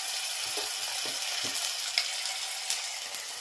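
Ginger garlic paste with onion fries in a pan, giving a close, steady hissing sizzle with a few soft stirring taps and small pops along the way.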